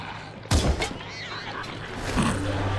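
Gunshots in the video game Wasteland 3, a couple of sharp close bursts followed by fainter rumbling impacts, under a low background hum.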